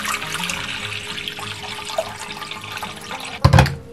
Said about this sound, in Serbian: Treba će nam i 1 veća šerpa u koju ćemo sipati vodu,